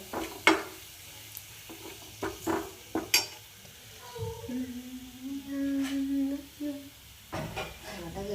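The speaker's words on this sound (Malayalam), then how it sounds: "ഇച്ചിരി മല്ലിപ്പൊടി കൂടി ഒന്ന് വറുക്കുന്നുണ്ട് കേട്ടോ" Coriander powder fries in hot oil for a tempering in a tuber curry, chilli powder added next, a close, soft sizzle broken by several utensil clinks and scrapes early on, with a voice heard briefly partway through.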